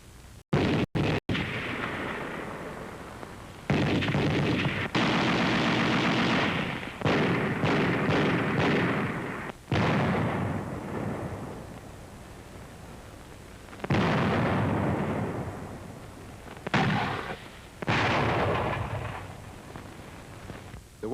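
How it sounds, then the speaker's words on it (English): Infantry weapons fire in a 1942 WWII training film, loud sustained bursts of gunfire broken by sharp cut-off pauses and a few single cracks, repeating across the stretch with no talk. "you will hear the various sounds of these weapons when you are on the receiving end of their fire."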